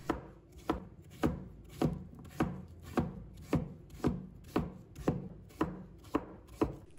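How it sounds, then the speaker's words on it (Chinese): A knife slices a pumpkin into thin pieces on a board, with about a dozen crisp, evenly spaced chops over a steady, close rhythm and no voices. "再把南瓜切成片，尽量将它切薄一点"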